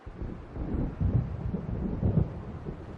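Deep rumbling thunder rolls steadily from an approaching storm in the video game Alan Wake, with low booming swells over wind and rain noise and no voices.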